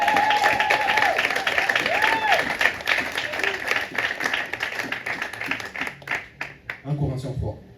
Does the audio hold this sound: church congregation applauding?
yes